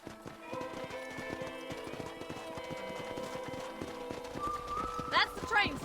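Horse hooves clip-clop steadily in a Red Dead Redemption scene, set under music and speech, with a couple of whinnies near the end.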